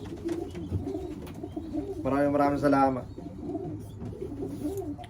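A large racing pigeon from a Capistrano loft coos in a burst of about a second, close by and clear, while someone speaks softly before and after it.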